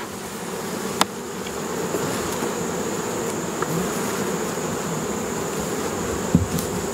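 Honey bees buzzing in an open hive while frames of pollen and brood are inspected, a dense, continuous drone close by, with a couple of faint clicks of hive handling.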